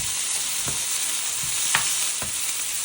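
Capsicum and fenugreek seeds sautéing in sesame oil give a steady close hiss, with a few soft scrapes of a spoon stirring through the pan.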